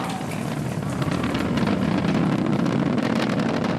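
A SpaceX Falcon 9's first-stage engines roar during ascent of the Inspiration4 launch, a dense, steady broadband rumble with crackling texture, heard from a distance through a broadcast feed.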